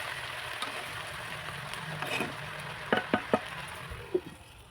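Small shrimp drop into a covered pot of boiling winter garden vegetables, giving a soft continuous bubbling sizzle with a few sharp clinks and knocks near the end.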